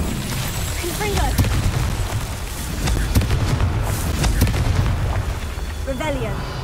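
A Confringo blasting spell fired in Hogwarts Legacy bursts in repeated booming explosions over dense game ambience and crackling effects, with a voice speaking over the action.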